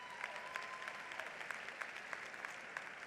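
Audience applause at an honors recognition convocation, a steady wash of many hands clapping at moderate distance with no voices over it, fairly quiet throughout.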